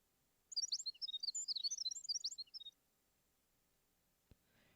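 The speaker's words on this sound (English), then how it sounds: "Birds are chirping merrily again today." Birdsong in the Hanging Perimeter Gardens of the video game Fate/Grand Order: a quick burst of bright, high chirps lasts about two seconds and then stops, leaving near silence broken by a single soft click.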